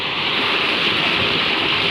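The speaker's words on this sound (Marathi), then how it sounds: "ही आपली विहिरीमध्ये पाणी चालू आहे." Steady broadband rush of water pouring into a farm well beside a chilli plot, loud and continuous with no breaks or voices.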